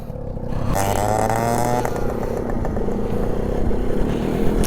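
A Max 100 motorcycle engine revs steadily up close during stretch training, its loud drone holding a continuous, rough tone throughout.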